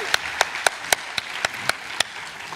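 A small audience at a national summit gives a round of applause for three panellists, heard as sparse, separate hand claps at a fairly steady rhythm over a quiet room.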